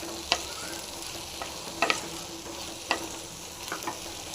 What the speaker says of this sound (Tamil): உருளைக்கிழங்கு சேர்த்துட்டு நல்லா நம்ம இந்த எண்ணெயிலே வந்து நல்லா வதங்கணும்